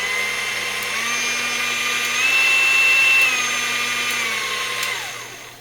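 Aldi Ambiano cordless hand mixer fitted with a Dustbuster vacuum motor and extra ventilation, running alone with a steady high-pitched motor whine that rises slightly mid-run, then winds down, close and loud.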